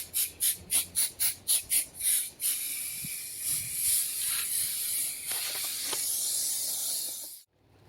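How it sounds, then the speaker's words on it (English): Mold release is sprayed heavily from an aerosol can onto a silicone mold wall, first in about nine short rhythmic bursts and then in a longer continuous hiss, close up, before it stops abruptly. "I'm spraying it pretty heavy on there and around the sides"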